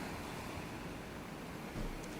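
Ocean waves pounding a black lava-sand beach at Honomalino Bay on Hawaii's Big Island, a steady, loud roar of surf with a heavier surge near the end, no voices.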